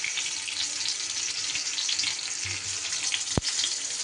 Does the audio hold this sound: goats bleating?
no